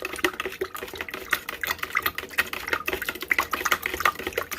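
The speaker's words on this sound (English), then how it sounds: "Give it a stir." A spoon briskly stirring pineapple ginger juice sweetened with brown sugar, giving a steady run of close clinks and scrapes against the container with light liquid swirling, no voices.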